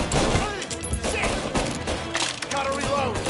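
Gunfire in the video game Mafia: Definitive Edition, rapid overlapping shots in sharp bursts across the whole stretch, with a voice shouting over them.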